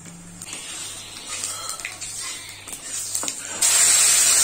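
Panch phoron spices hit a small amount of hot oil in a home kitchen, a soft hiss building to a sudden loud, bright sizzle near the end, close by, with no talking.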